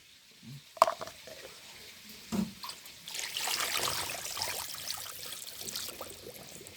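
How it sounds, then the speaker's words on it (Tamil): A few clunks and knocks, then running water splashes steadily over chicken meat with turmeric powder in a bowl, moderately close. "இப்போ நம்ம மஞ்சள் தூள் போட்டு கறியை கழுவிக்கலாம்."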